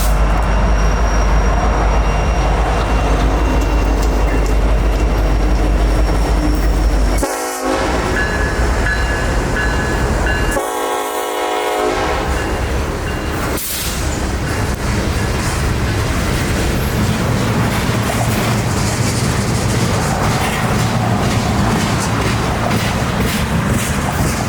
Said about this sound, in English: B631 is pulling into Knight's siding to drop off the bottom cut of their train